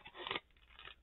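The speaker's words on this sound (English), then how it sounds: "My scissors are falling apart." Worn, loose scissors slice into a Garbage Pail Kids trading card pack, giving one brief close crunching cut.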